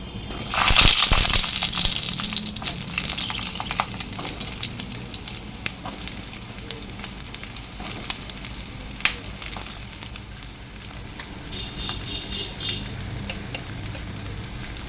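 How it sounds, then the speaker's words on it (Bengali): Ridge gourd and eggplant lightly frying in a pan: a loud hiss as the vegetables hit the hot oil, settling into a steady, close sizzle with occasional crackles and stirring, no voices. "এবারে ঝিঙে আর বেগুনটা হালকা ভেজে নেব"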